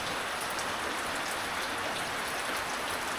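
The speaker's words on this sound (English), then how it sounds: "I heard the rain coming up the valley" Steady rain falling in a rainforest valley, a dense continuous hiss of drops on foliage and surfaces, even and unbroken throughout with no voices.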